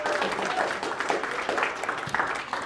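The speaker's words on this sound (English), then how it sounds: "Everybody give her a round of applause." A comedy club audience claps and cheers in a brief, fairly loud burst, the applause carrying on steadily with some crowd voices mixed in.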